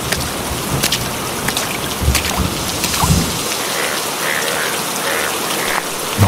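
Loud, steady rain pours down outdoors in an empty market area, a dense hiss with scattered sharper drops striking surfaces nearby.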